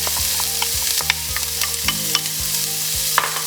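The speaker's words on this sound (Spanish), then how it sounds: "Y le vamos a poner la cebolla a freír." Onion fries in oil with a steady close sizzle, while a utensil stirs and scrapes the pan in repeated strokes; no one speaks.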